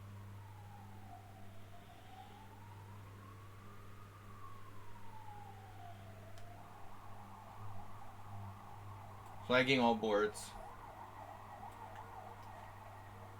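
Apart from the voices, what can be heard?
ambulance siren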